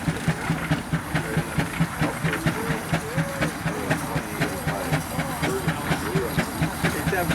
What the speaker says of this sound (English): that steam engine.